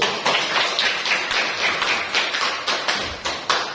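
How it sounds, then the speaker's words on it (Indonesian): A small group, likely a class, claps in a loose rhythm of sharp, roughly evenly spaced beats, close and moderately loud, with no voices over it. "Tepuk tangan atas dulu."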